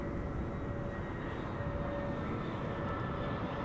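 An Aer Lingus airliner in old shamrock livery, arriving from Dublin, makes a steady broadband jet roar that holds at an even level throughout, with no voices.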